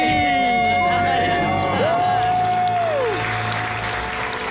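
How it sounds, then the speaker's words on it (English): A studio crowd cheers and applauds loudly and steadily, with whoops and high shouts rising over dense clapping that carries through to the end. "And the crowd goes wild"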